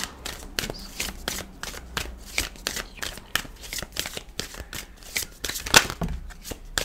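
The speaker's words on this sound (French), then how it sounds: "il y a une carte qui vient de sauter, mais il y en avait plusieurs qui avaient glissé" Tarot cards being shuffled by hand, a long run of quick crisp riffles and slaps at close range with an irregular rhythm and no talk.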